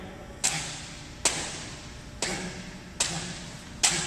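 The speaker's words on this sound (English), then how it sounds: "then punch through the paper" During karate practice, a fist punches through sheets of paper five times, each strike a sharp crisp snap with a brief tearing rustle, spaced about a second apart over quiet room tone.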